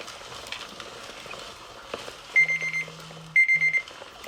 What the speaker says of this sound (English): Don't be alarmed, because the alarm is going to go up.